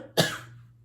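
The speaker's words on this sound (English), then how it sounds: "Excuse me for the coughing today." A single short cough, close and fairly soft, standing alone against a quiet indoor background.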